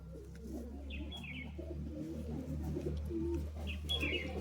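Teddy pigeons at a Kolkata sale coo softly and steadily, repeated low throaty calls over a constant low hum, with a couple of faint higher chirps from another bird.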